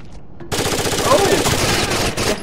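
Rapid automatic gunfire in the shooter video game RSV2 breaks out after a moment of quiet and rattles on loud and dense for a couple of seconds.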